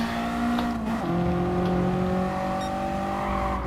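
A race car in Gran Turismo Sport slows under braking, its engine note dropping in pitch as it decelerates, with steady game engine drone throughout and no voices.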